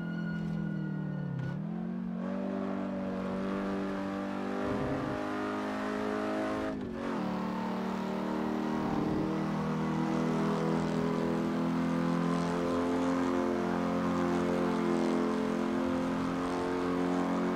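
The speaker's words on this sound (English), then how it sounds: "Right now I'm hearing this engine so loud, like really loud." An Alfa Romeo Giulietta Spider engine drones loud and steady in the racing game Assetto Corsa at Donington Park, holding a strong harmonic tone with brief dips in pitch as gears change, then climbing and sustaining.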